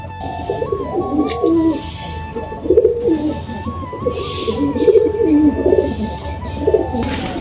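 Domestic pigeons coo repeatedly in low, rolling phrases close by, several birds overlapping, with faint wing flutters and background chirps.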